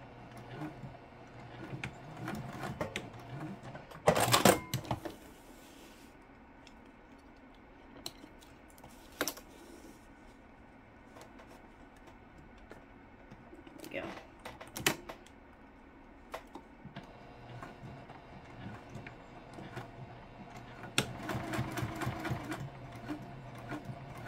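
A home sewing machine stitches a tag onto fabric in short bursts of rapid mechanical clatter, close and fairly quiet, with pauses between runs and a longer run near the end.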